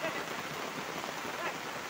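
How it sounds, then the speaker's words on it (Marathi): A heavy rain shower pours down on the paddy fields during rice planting in the Konkan, a dense, steady hiss of drops drumming on surfaces filling the whole clip. "पावसाची बघा जोरदार सर आलेली आहे."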